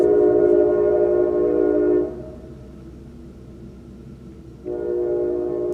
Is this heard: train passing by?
yes